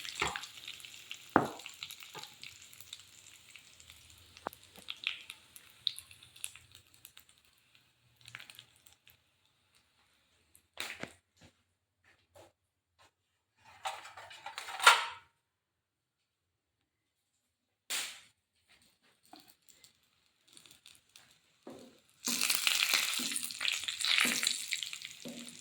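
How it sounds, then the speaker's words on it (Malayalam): Curry leaves and dried red chillies fry in hot oil in a pan, giving faint intermittent sizzles and stirring scrapes with quiet gaps, then a louder burst of sizzling near the end. "കുറച്ച് വേപ്പില ഇട്ട് കൊടുക്കാം. പിന്നെ കുറച്ച് ചുവന്ന മുളക്, വറ്റൽ മുളകാണ് ഇട്ട് കൊടുക്കുന്നത്."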